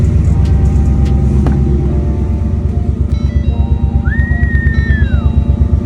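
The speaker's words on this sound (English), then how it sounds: "the truck is finally on. It's running at operating temps." A repaired truck engine idles steadily at operating temperature, giving a close, loud, even low rumble with a regular pulsing rhythm, plus a brief higher whine partway through.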